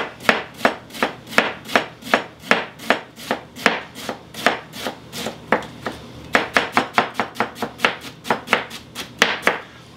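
A knife slices through a cored cabbage on a cutting board for egg rolls, a long run of crisp, evenly spaced chops about three per second, close and clear with no talk.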